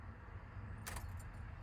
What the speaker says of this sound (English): key in, ignition to start, and as you can see, basically I'm taking the key to start